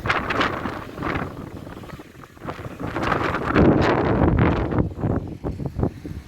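Strong wind buffets the microphone in rough, gusting bursts, loud and close, with no clear talk over it.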